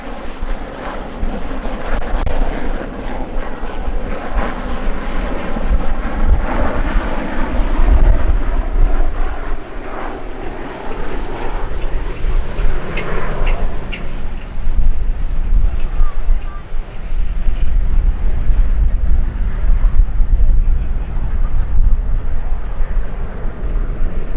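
A Westland Sea King helicopter hovers at the Midlands Air Festival 2025, its rotor and turbines making a continuous, heavy rumbling drone mixed with gusty wind buffeting on the microphone, steady for the whole stretch.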